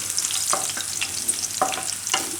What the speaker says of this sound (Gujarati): થોડીક વાર તેલમાં કાજુને આ રીતના થવા દેવાના, ગોલ્ડન સેજ કલર આવે એવા,